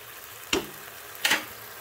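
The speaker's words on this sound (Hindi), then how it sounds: "आपने चम्मच इसके अंदर हिलाते रहना ताकि ये जल ना जाए" A spoon scrapes twice through seekh kabab karahi masala frying in a pan, two short close strokes over a faint background sizzle.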